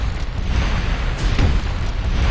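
A bazooka missile explosion in Disaster Report, heard as a loud, sustained low rumbling blast with rough noisy texture across the whole moment and no voices over it.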